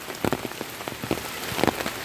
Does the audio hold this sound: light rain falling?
yes